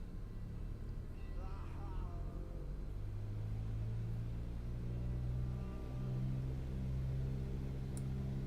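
A light aircraft engine in Microsoft Flight Simulator 2020 runs up to 2000 RPM, its low droning hum rising in pitch and holding steady, fairly quiet and even throughout, with no talk.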